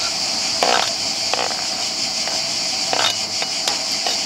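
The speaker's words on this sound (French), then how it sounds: "en premier on va mettre les oignons" Onions fry in a pan over a camping stove with a steady sizzle, and a few sharp scrapes from stirring break in along the way.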